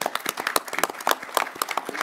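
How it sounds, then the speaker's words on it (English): A symposium audience gives a speaker a round of applause, a quiet, dense patter of many hands clapping at once in a hall. "let's give Mike a big round of applause."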